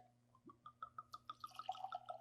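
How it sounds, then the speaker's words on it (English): Small batch bourbon pours into a glass in a quiet room, a faint close run of rapid, evenly spaced glugging drips that quicken and rise in pitch as the glass fills. "I hear the glug, glug, glug of deliciousness"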